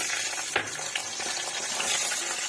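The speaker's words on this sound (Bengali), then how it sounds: "এবার ভেজে নেবো বড়ি" Lentil dumplings (bori) fry in hot oil in a wok, giving a steady close hiss with small crackling pops and no voices.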